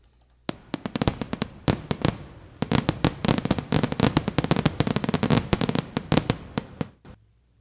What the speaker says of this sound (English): This is also a firework effect.